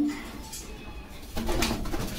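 Domestic pigeons at a pigeon seller's loft in Bogura, Bangladesh, cooing close by in low repeated throaty calls, with a busier stretch of cooing and rustling in the second half.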